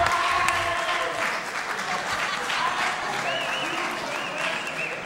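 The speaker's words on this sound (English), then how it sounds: "And the crowd is loving it." A wrestling crowd at a championship ladder match applauds and cheers in a loud, sustained wash of clapping and shouting, with voices audible within the din.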